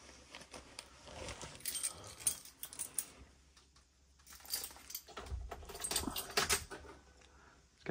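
A set of keys jangles inside a 2020 Georgetown GT7 Class A gas motor home in two bursts of close metallic rattling and clinking, separated by a brief quiet gap.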